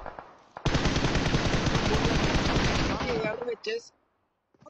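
Rapid automatic gunfire in the mobile battle royale game PUBG Mobile bursts loudly and continuously for about three seconds, then cuts into a few shorter shots before falling silent.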